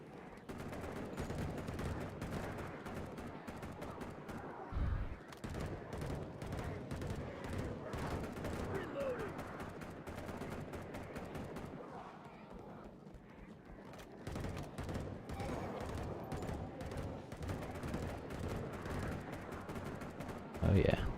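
Sustained gunfire from AKM and MP5 weapons in a zombie shooter, rapid bursts rattling almost continuously over twenty seconds, fairly quiet overall, with occasional louder bangs and game ambience underneath.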